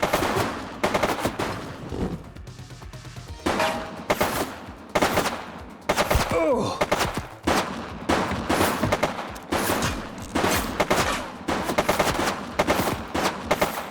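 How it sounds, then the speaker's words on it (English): Gunfire in the 80s crime-city police game The Precinct comes as repeated bursts of rapid shots, loud and close, in clusters separated by brief pauses, with no speech. "Shots fired!"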